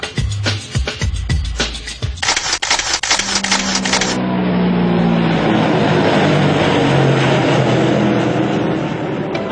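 A Tupolev Tu-95 propeller aircraft drones loudly and steadily with a rough, throbbing engine roar, preceded by a few seconds of clattering mechanical noise.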